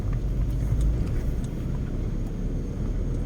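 A running diesel vehicle engine with a faint whistling tone over a steady low rumble, continuous and close with no speech.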